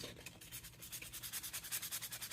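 Sandpaper scuffs an RC truck's plastic cab in quick, even back-and-forth strokes, a rhythmic rasping of about eight strokes per second that stays fairly quiet and close.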